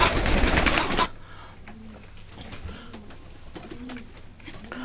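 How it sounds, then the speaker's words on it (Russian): Large Iranian pigeons coo in repeated low, rolling calls at a moderate distance, after a loud burst of rustling noise opens the scene. "Это иранские голуби. Они крупные, они летают хорошо."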